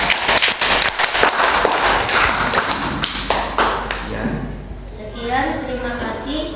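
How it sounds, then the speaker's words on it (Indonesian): Classroom applause for a student group, a burst of clapping with a few thuds and taps from the first seconds, fading as a voice begins speaking near the end. "Oke, tepuk tangan untuk kelompok 2."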